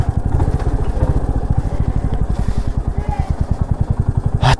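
A motorcycle engine idles nearby with a rapid, steady thumping pulse and a slight clatter, loud and even throughout, with a brief higher noise near the end.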